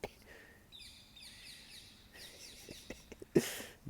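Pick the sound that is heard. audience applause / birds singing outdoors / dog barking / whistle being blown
birds singing outdoors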